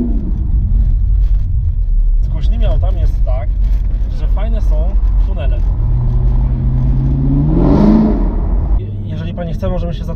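Chevrolet Camaro ZL1 engine rumbles loudly and then rises in a revving surge of acceleration, heard close up from inside with people talking over it.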